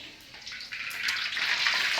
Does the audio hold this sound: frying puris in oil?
yes